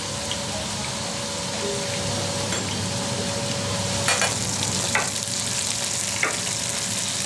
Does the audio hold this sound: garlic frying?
yes